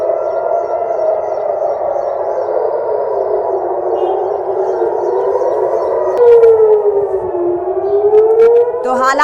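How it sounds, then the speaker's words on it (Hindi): A civil defense air raid siren in central Israel and Jerusalem wails steadily and loudly during an Iranian missile attack, its pitch slowly dipping and rising, with a second tone joining near the end. "सायरन बजने की आवाज आपको सुनाई दे रही है"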